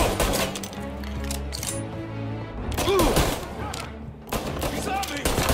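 Gunfire in the video game Mafia Definitive Edition, with rapid overlapping shots and bursts in a dense, continuous barrage while a voice talks over the action.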